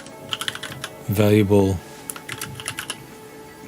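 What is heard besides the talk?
typing on a computer keyboard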